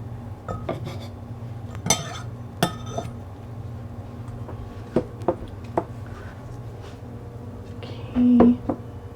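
A knife chops frozen pureed homegrown garlic for a Korean stew sauce, giving irregular sharp taps and clinks scattered over a steady low kitchen hum, with a brief louder scrape near the end.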